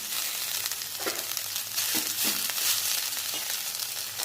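Garlic and ginger frying with coriander in a hot pan, a steady bright sizzle with occasional scraping stir strokes, close and continuous with no talking.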